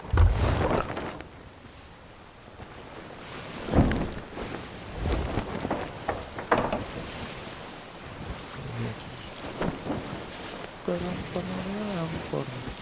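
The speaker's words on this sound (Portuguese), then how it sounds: "chega essa tempestade" In the Sea of Thieves video game, a stormy sea rages with steady rain, surging waves, wind and rolling thunder cracks, while someone talks over it at times.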